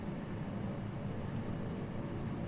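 A Zlin Shock Ultra light aircraft engine drones in a flight simulator game, a steady, even hum with a low rumble that stays constant and unbroken, no voice over it.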